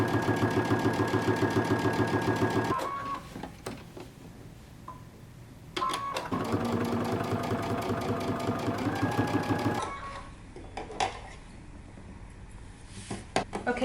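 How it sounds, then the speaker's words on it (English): A sewing machine runs in fast rhythmic bursts while top stitching around the collar of a Simplicity 8060 jumpsuit, pausing briefly between runs and slowing into short stop-start stitches near the end, close and fairly loud. "now we're going to top stitch around our collar"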